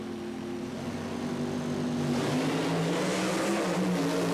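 Supercharged funny car and dragster launch side by side at a classic drag race, a loud sustained engine roar that swells and shifts in pitch as the cars pull away.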